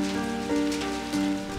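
Heavy storm rain pours steadily onto surfaces in the South Carolina Lowcountry, a loud, dense and continuous wash with no voices, overlaid by a sustained low tonal hum.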